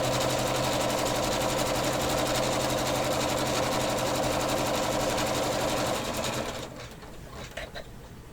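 Embroidery machine stitching the final line of a quilted applique, a steady close mechanical drone with rapid needle rhythm that stops near the end, leaving quieter clicks.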